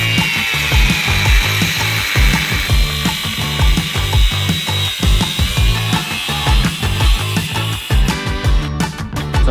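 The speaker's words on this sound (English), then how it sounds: "So we're just gonna chop it off right there with an angle grinder." An angle grinder cuts off the bumper of an off-road Corvette, giving a loud, steady, harsh grinding roar that runs almost continuously with rough pulsing bursts, close and alone with no voices.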